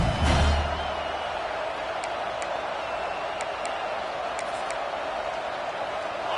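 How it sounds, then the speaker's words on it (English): A home crowd at a South Carolina versus Missouri college football game at Williams-Brice Stadium roars loudly and continuously, a dense steady wash of cheering with a brief louder swell at the start. "Man, this crowd really affecting the football game."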